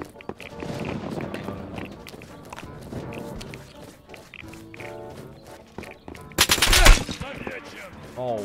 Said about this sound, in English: I thought that was a player that shot at me